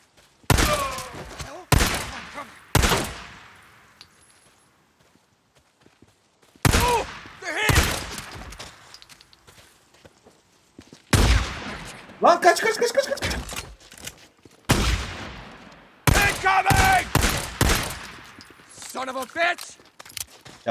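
Gunfire in Days Gone, with loud, sharp shots in separated bursts and single cracks and quiet gaps between them, joined at times by hoof-like thuds and footsteps.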